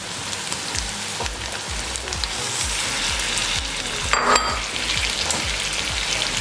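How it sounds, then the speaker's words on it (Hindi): Chickpeas for chana pulao frying in hot oil, a dense crackling sizzle with rhythmic scraping from stirring, close and steady, building slightly toward the end. "चनों को हमने 2 से 3 मिनट के लिए अच्छे से फ्राई कर लिया है।"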